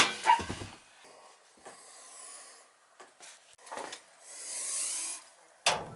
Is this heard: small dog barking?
yes